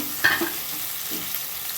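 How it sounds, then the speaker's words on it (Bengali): A spice paste with turmeric hits a hot pan with one brief stirring scrape and a short burst of sizzle, then settles into a faint, steady frying hiss. Nobody speaks. "এবার আমি পেস্টটা দিয়ে দেবো, আর এতে হলুদ দেবো"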